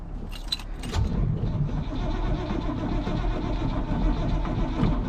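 Squarebody truck engine cranking over and struggling to fire, a steady churning turnover running the whole time with a brief metallic jangle near the start.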